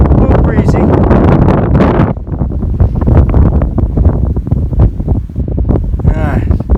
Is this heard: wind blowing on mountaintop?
yes